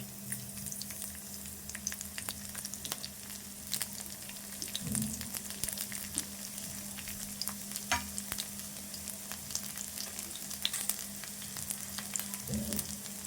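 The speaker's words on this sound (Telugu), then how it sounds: "ఈ ఎల్లుల్లి కూడా ఇట్లా కట్ చేసి వేసుకోవాలి" Cut garlic frying in oil for an old-style home recipe: a steady, close sizzle and crackle with occasional stirring scrapes, no voices.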